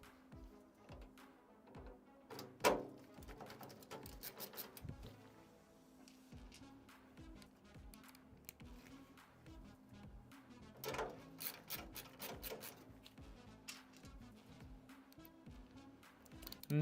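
A screwdriver tightens screws into PC parts, giving quiet, irregular ticks, clicks and small metallic knocks close by, with brief louder clatters now and then.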